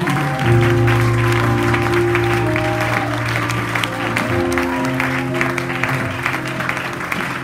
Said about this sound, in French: On acclame très fort pour Jésus.